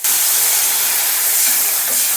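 Water poured into hot fried spice paste for a Bengali duck egg curry, a loud steady steaming sizzle-hiss that fills the whole moment without talk.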